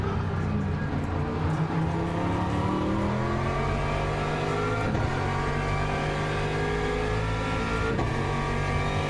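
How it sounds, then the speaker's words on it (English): An Aston Martin V8 race car engine roars in a sim racing game at Sebring, a steady sustained drone with shifting revs and whirring harmonics, loud and continuous throughout without talk. "we will just enjoy the glorious sound of the Aston Martin V8"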